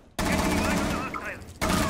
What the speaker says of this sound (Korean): 이거 총소리 들었는데